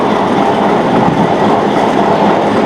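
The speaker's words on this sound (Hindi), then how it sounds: "ट्रेनें भाई निकल रहे हैं रावलपिंडी" Trains pull out of Rawalpindi station in a loud, close, continuous rumble of rolling railcars with steady wheel clatter and no voices.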